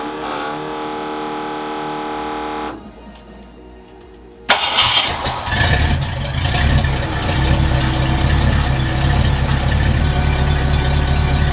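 A classic Ford Galaxie car engine idles with a dropout midway, then roars back louder and steadier as a close, running motor.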